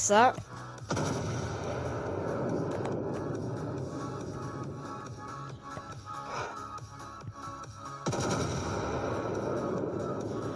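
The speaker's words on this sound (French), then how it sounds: "Vous voyez comme c'est puissant des vaisseaux à plusieurs canons lourds." Heavy spaceship cannon blasts boom and rumble continuously in the video game Star Base, a burst of fire opening and another surge near the end.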